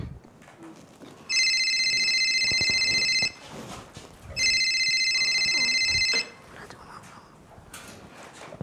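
A telephone rings in two long, bright electronic bursts separated by a short pause. Soft rustling and faint whispery sounds come between and after the rings.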